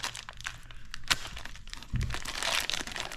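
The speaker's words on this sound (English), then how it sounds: "Mick going crazy with the knife" A knife slicing and tearing through plastic packaging for new aftermarket LED fog lights for a 2023 Toyota Tacoma TRD Off-Road, giving close crinkling, cracking and crunching with a louder rip near the end.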